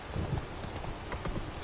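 Horse hooves clip-clop steadily on the ground in The Witcher 3 on PS4, a quick run of close, moderately quiet hoofbeats with no talking.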